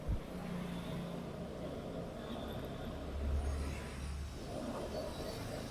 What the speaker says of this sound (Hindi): गियर बॉक्स का जो साउंड आना चाहिए वही आ रहा है